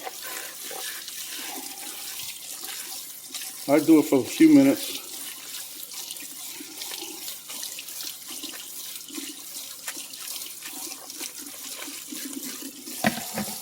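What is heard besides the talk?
tap water running over shirataki konjac noodles in sink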